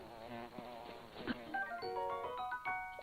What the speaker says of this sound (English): Bees! Shoot!